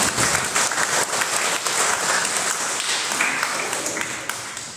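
Church congregation at a Methodist service applauding right after a prayer, loud continuous clapping from a crowd that fills the room and slowly fades toward the end.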